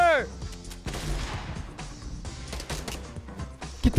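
Gunfire in the Fortnite video game crackles in rapid bursts and single sharp shots, mixed with game effects and a rising tone at the start, loud and busy throughout.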